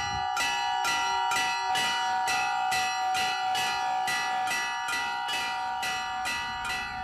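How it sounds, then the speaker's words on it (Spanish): An old ship's bell used as a church bell, struck over and over in a steady, even rhythm, each bright metallic clang ringing on and overlapping the next, loud and clear with no voices. "en vez de campanas de iglesia, se emplean las de viejos barcos"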